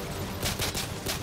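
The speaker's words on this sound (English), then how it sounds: "I'm gonna pull my pistol for you." Pistol shots in Call of Duty: Modern Warfare 3, three or four sharp, evenly spaced cracks in a second, fairly loud over dense game noise.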